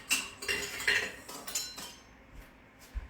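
Metal stand mixer attachments, a dough hook and a whisk, clink and clatter against each other and hard surfaces in a series of bright, close, irregular taps, with no talking.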